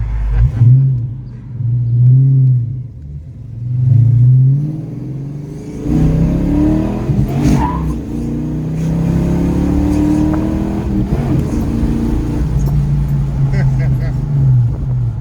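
A 1990 Ford Mustang GT V8 with a 70mm BBK throttle body rumbles while driving, revving in rising and falling surges, then pulling hard and steady, loud and close, with people talking over it.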